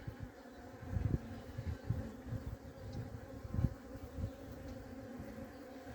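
Honey bees hum steadily in a split hive during an inspection, a close, continuous low buzz with brief louder swells as individual bees pass near.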